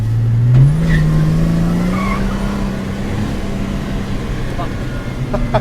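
A drifting car on a track with tires squealing, a loud sustained engine drone that rises and holds while tire squeal and road noise carry on around it, close by.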